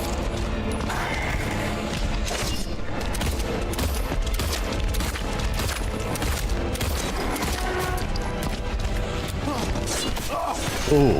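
Rapid gunfire from the Silent Hill 2 Remake in the Lakeview Hotel Otherworld, dense bursts of shots over a thick, loud game soundscape with thuds and crashes throughout.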